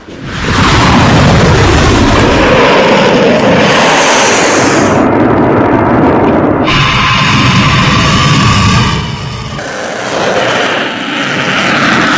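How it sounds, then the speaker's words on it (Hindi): Missile attack at night, with a continuous loud roar of rushing engines and heavy rumbling blasts that fill the whole stretch before easing slightly near the end. "रात के अंधेरे में एक के बाद एक खतरनाक मिसाइलों से हमला किया है"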